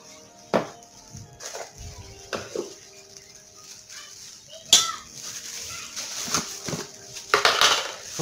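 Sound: teaspoon scooping seasoning powder for pork knuckle

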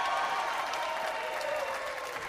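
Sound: crowd applause as coach cuts down the nets

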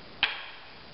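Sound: badly played drum flam

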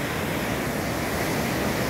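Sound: rushing water after rain in Águas de Lindóia

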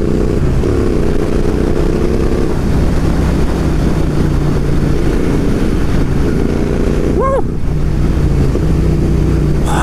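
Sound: Royal Enfield Interceptor 650 motorcycle engine and exhaust pipes

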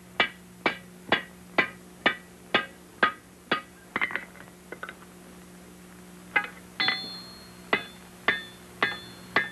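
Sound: hammering forge welds on an iron rifle barrel

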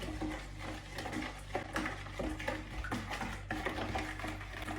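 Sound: whisking batter for vareniki dough

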